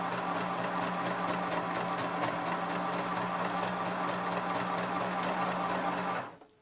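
A sewing machine stitching a reinforcement seam on fabric for a craft doll, humming in a fast, steady mechanical whir up close for several seconds before stopping abruptly.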